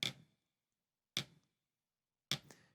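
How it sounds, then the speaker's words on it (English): Three short, dry snare drum buzz strokes, pressed too hard, spaced about a second apart, each a crisp choked buzz that dies away quickly into silence. "But if I press too hard, I get this sound."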